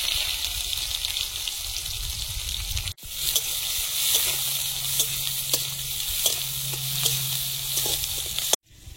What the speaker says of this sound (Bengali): কড়াইতে তেল দিয়ে দেব, 5 ফোড়ন, পেঁয়াজ কুচি,